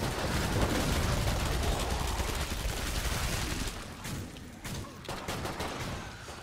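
Killing Floor 2 co-op gunfire: dense, continuous fire of several weapons roars loudly for about four seconds, then thins into scattered separate shots.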